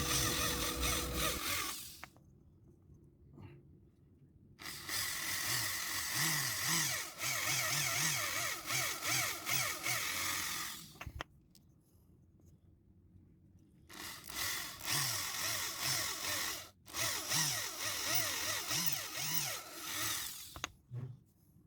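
A power drill bores holes in a handmade mini popper fishing lure to fit lead weight and wire, running in two long whining bursts with a quiet pause between them, close and loud.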